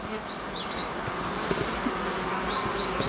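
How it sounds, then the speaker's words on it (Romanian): Honey bees buzz steadily at the hive as foragers return laden with pollen, a dense close drone with a few higher passing whines of individual bees flying near. "vin albinele cu polen"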